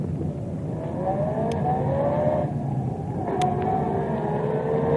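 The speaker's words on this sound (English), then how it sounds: "That car that just passed us." A car passes by on a country road, heard as a steady engine drone with rising and falling tonal whine across several seconds, in an old radio drama.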